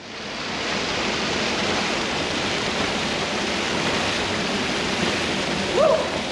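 Water of the Tavignano river in Corsica flowing and rushing, a loud, steady broadband wash heard close up throughout, with a brief faint voice-like sound near the end.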